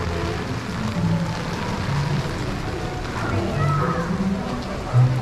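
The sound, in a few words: rain falling on Main Street at Disney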